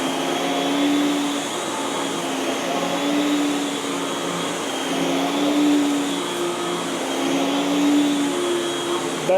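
A Miele S7 upright vacuum cleaner runs steadily on carpet. Its whirring motor drone is continuous and close, with slight surges as it moves.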